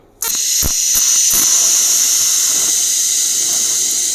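A TIG welding torch strikes on aluminium, bursting into a loud, steady high hiss after a moment of quiet, with a few faint ticks early on and no talk.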